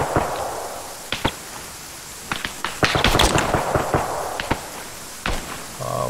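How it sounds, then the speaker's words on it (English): Gunfire in Arma 3 military combat, sharp scattered cracks and bursts, some single shots and a dense cluster mid-way, fairly loud against a low ambient battlefield hum with no speech. "He's firing and advancing."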